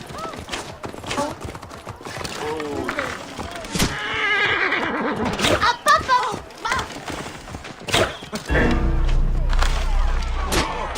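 Horse neighs and whinnies in Assassin's Creed Origins, several loud calls mixed with hoof clip-clop, game sound effects and talking voices, ending in a heavy low rumble.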